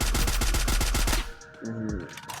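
Automatic gunfire in the Free Fire mobile game: a rapid, loud burst of evenly spaced shots for about a second, then it cuts off into quieter game ambience with a brief tonal effect.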